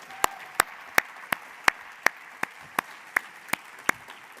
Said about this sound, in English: can we take a moment and give our fearless leader, Henrico's 8th county manager since 1934, a round of applause, Mr. John Vitolkis.